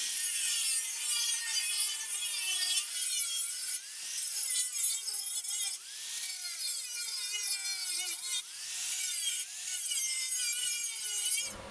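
Wooden sawmill bunk being cut down with a saw, a steady rasping, whining cutting noise that runs continuously and loudly up close with slight rises and dips in pitch.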